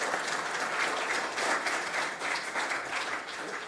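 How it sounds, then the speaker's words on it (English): An audience at a downtown development summit applauds with steady, dense clapping from a sizable crowd, held at an even level throughout. "let's give a round of applause for our club."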